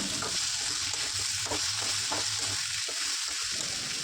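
Spice paste for a potato and egg curry fries in a pan with a loud continuous sizzle and a few soft stirring scrapes, no voices present.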